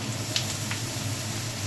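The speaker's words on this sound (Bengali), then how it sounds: "পেঁয়াজটা লাল করে ভাজা হয়ে গেছে, এবার এটা লাউটা দিয়ে দেবো" Bottle gourd dropped into a pan of reddened frying onions, a steady close sizzle with a couple of brief crackling bursts as the pieces land, and no voices.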